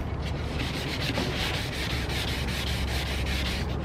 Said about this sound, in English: Let's see if this will sand off easy.